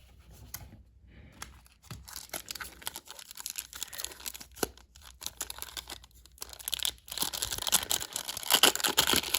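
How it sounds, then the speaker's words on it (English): Foil trading card packs, 1994-95 NBA Collector's Choice Series 2 Spanish Edition, torn open and crinkled up close, irregular bursts of tearing and crumpling foil that grow louder and denser toward the end, no voices. "the packs here are the foil packs, so they're not difficult to open"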